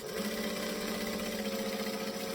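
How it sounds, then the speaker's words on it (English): A sewing machine stitching and back stitching through textured vinyl, a steady close mechanical whir running without a break for a couple of seconds. "start in the corner, stitch and back stitch"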